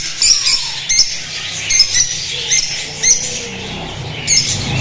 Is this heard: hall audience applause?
no